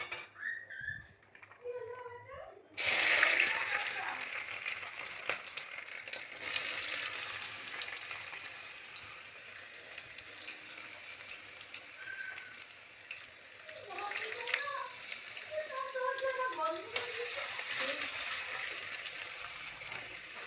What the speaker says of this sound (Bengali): এতে কিন্তু আমি আস্তে আস্তে করে গাজরটা দিয়ে দেবো।